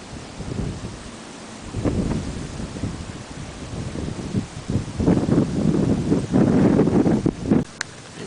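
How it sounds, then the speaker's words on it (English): A summer thunderstorm in Tampa, Florida, with rain and wind rustling foliage and low rumbling surges of thunder that swell and fade, fairly loud and close, without speech. "Summer thunderstorm."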